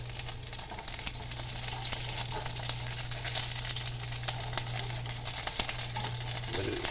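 Steady sizzle of quesadilla cheese frying in butter in a pan, a close, continuous crackling hiss with small pops and a low background hum.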